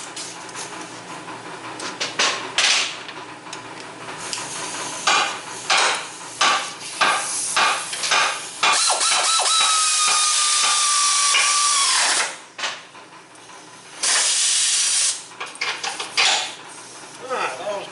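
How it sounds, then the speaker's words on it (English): Air ratchet driving suspension bolts on a 2001 Mustang in a garage, loud rapid buzzing bursts mixed with metallic clanks and tool knocks, close by, with sustained whirring runs. "You got the air ratchet?"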